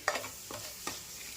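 A spoon stirs grated coconut mixed with milk powder in a pan for coconut barfi, giving three soft scraping strokes close up with a faint sizzle underneath.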